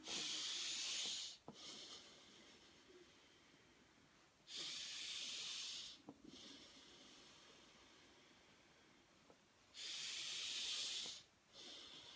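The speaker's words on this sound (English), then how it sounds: "Breathe in." Slow, deep inhalations during a breathing meditation, three long airy hissing breaths in, each lasting a second or two, separated by quieter pauses with faint exhales, close and intimate.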